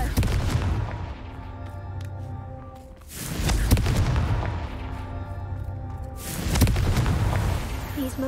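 The Confringo blast spell from Hogwarts Legacy booms through repeated loud explosions, each a heavy rumbling burst that swells and decays, with game sounds between the blasts.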